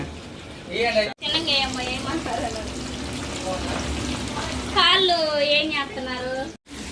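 Chicken pieces frying in oil, a continuous close sizzle running under a person talking throughout.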